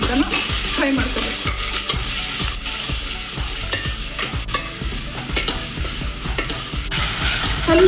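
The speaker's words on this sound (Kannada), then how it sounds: "ಸ್ವಲ್ಪ ಗೋಲ್ಡನ್ ಬ್ರೌನ್ ಆಗುತ್ತೆ ಅಂತ ಫ್ರೈ ಮಾಡ್ಕೋಬೇಕು." Onions, green chilies and curry leaves fry for tomato sambar with a loud, continuous sizzle, while a spoon stirs and scrapes the pan in a steady rhythm of repeated strokes close up; nobody talks.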